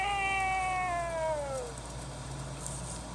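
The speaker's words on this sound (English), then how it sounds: "Make a chicken sound." An Emo desktop robot produces one electronic animal call meant as a chicken, a loud descending tonal cry lasting about a second and a half that fades into quiet room noise.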